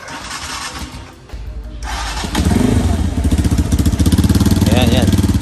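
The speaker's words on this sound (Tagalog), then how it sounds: "So try natin i-start yung kanyang engine." A Rusi KR-Y 200 motorcycle engine cranks after a moment of handling noise, then catches and settles into a loud, close, steady rhythmic idle, with someone speaking in the background.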